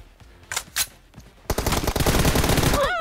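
Gunfire in a mobile battle royale team deathmatch: a couple of sharp isolated shots, then a loud sustained automatic burst that runs to the end, close up, ending with rising electronic game tones and no talking.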